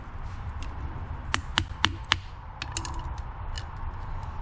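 Small metal clicks and light taps, four sharp ones close together in the middle, from an Allen wrench working a pin out of the ignition lock of a 2004 Acura TL, over a steady low hum.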